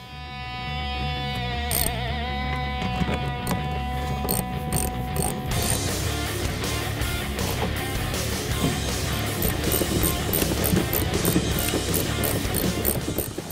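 Subframe connector hardware bolts being tightened on a 1979-2004 Mustang during a Maximum Motorsports full-length install: steady mechanical ratcheting clicks and metallic clatter, close and continuous, with no talk.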